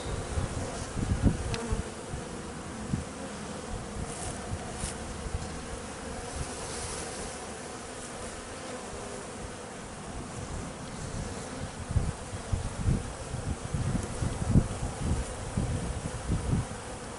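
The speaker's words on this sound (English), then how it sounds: "Lots of bees." A dense, steady buzz of a massive bee swarm during a beehive removal fills the whole stretch, close and continuous, with occasional louder passes near the microphone.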